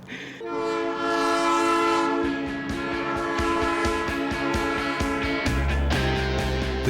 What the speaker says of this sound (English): So, Rob, do you think a penny can derail a train